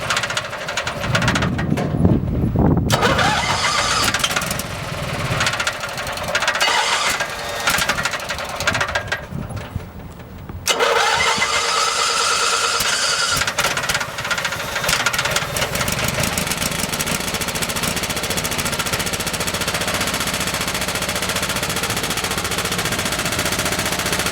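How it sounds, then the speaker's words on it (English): Cold RV generator being choked and started, with loud, uneven mechanical clatter and chugging, a brief drop near the start and another around ten seconds, after which it settles into a harsh, rough-running drone. "Choke it out. tap out generator. So still sounds like hell."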